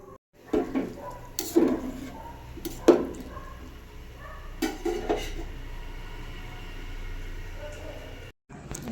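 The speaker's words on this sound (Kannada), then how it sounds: "ನೀರು ಚೆನ್ನಾಗಿ ಕುದೀತಿರುವಾಗಲೇ ಹೂಕೋಸನ್ನ ಚಿಕ್ಕದಾಗಿ ಹೆಚ್ಕೊಟ್ಟಿದ್ದೆ ಅದನ್ನು ಹಾಕ್ತಿದ್ದೀನಿ" Chopped cauliflower dropped into a pot of boiling water, a series of clattering pot and utensil knocks with splashing over a low bubbling background, close, with a person talking alongside.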